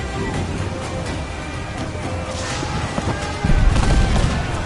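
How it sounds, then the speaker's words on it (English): Heavy ship cannon fire in Assassin's Creed IV Black Flag booms through a dense, roaring naval battle din, with deep thuds building toward the end and no clear pauses. "Off the cannons fly!"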